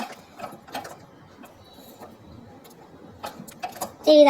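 A pedal-driven sewing machine mechanism ticks and clicks in a faint, irregular rhythm close by, ending with a louder burst of mechanical noise.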